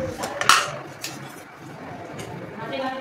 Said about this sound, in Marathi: कढई ठेवूया छोटीशी